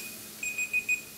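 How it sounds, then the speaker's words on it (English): A kitchen timer alarm going off while biscuits bake, four quick, bright electronic beeps in a steady rhythm over faint room noise. "that's the alarm for my biscuits."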